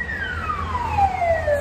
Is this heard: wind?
no